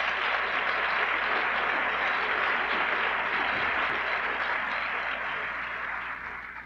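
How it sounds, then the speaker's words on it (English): An audience at a 1969 college lecture at Augsburg gives a sustained round of applause for a publicity director, dense and loud throughout, fading slightly at the end. "I would like to have you give a good round of applause to the Director of Publicity and Public Relations, Mr. Gordon Mickelson."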